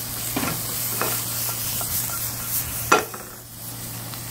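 Ingredients for a children's soup are stir-fried in a pan, giving a steady hiss and sizzle under a low constant hum, with a few light stirring scrapes and one sharper clank.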